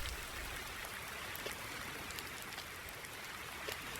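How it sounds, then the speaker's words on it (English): Steady rain in a farming video game (Farming Simulator 19) hisses continuously, a dense even patter with occasional louder drops, moderate in level and uninterrupted, no voices. "Still raining. It's not improved at all."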